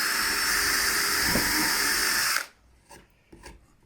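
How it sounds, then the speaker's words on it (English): A power drill bores holes in wood while a hedgehog house is built, a loud steady whir running about two seconds before stopping abruptly, followed by a couple of faint knocks. "we'll drill a few holes"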